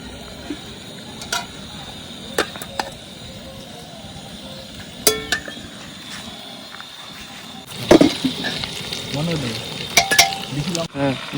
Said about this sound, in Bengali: আলুগুলো দিয়ে একটু মাংসটা কষিয়ে নিই আগে